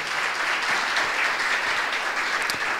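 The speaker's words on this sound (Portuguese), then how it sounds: "E eu gostaria de recebê-lo agora com uma alegria, com uma salva de palmas" An audience at a talk on science and Christian faith breaks into a steady wash of applause, continuous and fairly loud throughout the short stretch.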